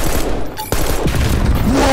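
Gunfire in the Call of Duty video game, a dense burst of rapid shots firing almost continuously at close range, loud throughout with a brief break near the middle.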